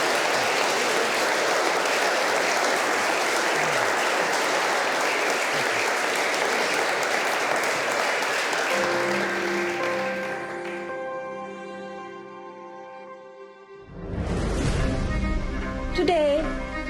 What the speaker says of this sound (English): Christopher Livingston Eubank, a warm round of applause.